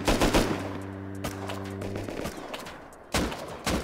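Automatic AK rifle fire in the survival game Rust, rapid bursts of close, loud shots in a dense rhythmic string, then a pause and two more sharp shots near the end.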